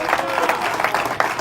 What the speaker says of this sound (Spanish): dale aplauso de gloria